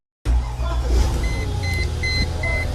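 A 1999 Mercedes ML430 engine starting after a crank no-start fault was fixed: a sudden start into a steady close idle hum, with repeated short electronic warning beeps chiming over it.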